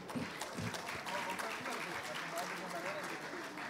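An audience at a school anniversary celebration applauds a speaker with a dense, steady wash of clapping that lasts the whole moment, heard from within the hall.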